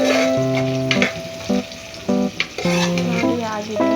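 Chicken pulao ingredients sizzle steadily in a hot pan while a spatula stirs them in repeated scraping strokes, with a sustained musical tone running beneath the frying.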